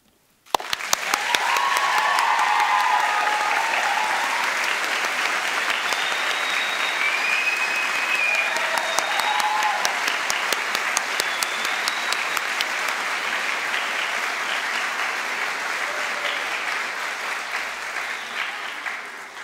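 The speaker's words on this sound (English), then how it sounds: "I want to give you the chance to clap and say thank you to everyone who's worked so hard" A University of South Wales graduation audience in Newport breaks into long, even applause after a brief quiet start, a steady dense patter of many hands sustained for nearly twenty seconds and fading gently at the close.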